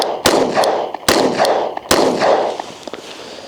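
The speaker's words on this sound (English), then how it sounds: "I'm just going to go ahead and shoot it real quick" Three sharp, loud Glock pistol shots fired close by at a steady pace, each crack followed by a brief ringing decay.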